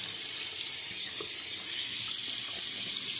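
Water runs steadily from a bathroom tap as a face is re-wetted between passes of a shave with a Razorock Zi'Peppino or pre-war Gillette Tech safety razor, a continuous close hiss with no talking.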